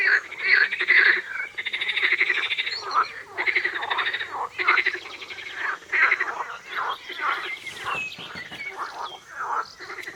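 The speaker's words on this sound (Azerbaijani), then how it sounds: "Qurbağalar mənim səsimi eşidib biraz da coşdular elə bil." Frogs croak and trill continuously in a wet, flooded campsite during heavy rain, their rapid pulsing calls layered and overlapping from several animals close by, with a few bird chirps mixed in.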